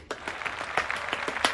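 A short burst of scattered clapping from a small group, a few distinct, uneven claps at close range, brief and moderately loud.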